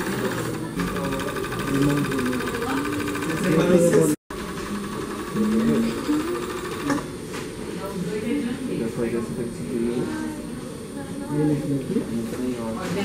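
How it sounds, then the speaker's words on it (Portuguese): An industrial coverstitch machine stitches a T-shirt hem with a steady mechanical hum and rhythmic needle chatter, pausing briefly midway, while someone talks over it. "essa daqui é uma máquina galoneira, mas era industrial"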